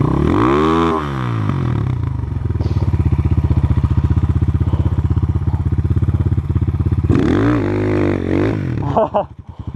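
Motorcycle engine revving hard in a forest while stuck, a loud pulsing throttle drone that rises, holds steadily, then swells again before cutting off, with voices talking briefly over it.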